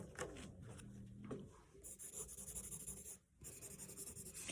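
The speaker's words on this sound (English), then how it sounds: "Keeping your pencil on an angle makes it very easy to shade." Pencil shading on paper for a self-portrait, held at an angle, makes soft, close scratching and rubbing strokes in short, uneven bursts with brief pauses between them, with no voices.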